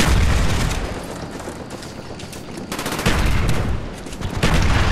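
Gunfire in Call of Duty: Black Ops: dense, loud automatic bursts and booming shots crackle almost without pause, with no talking.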